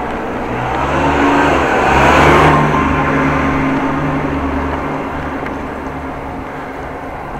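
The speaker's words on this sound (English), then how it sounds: "that looked like a fast-moving electrical vehicle, or vehicle" A fast-moving electric vehicle passes on a Dutch road during a bike commute, its whoosh swelling and fading over steady road and wind rumble.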